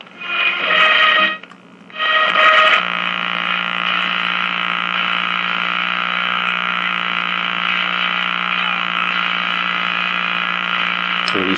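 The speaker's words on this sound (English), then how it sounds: "now it's a horrible buzz" A restored Meck XB-702 television set gives off a loud, steady electrical buzz, harsh and continuous, after a brief dip in level near the start.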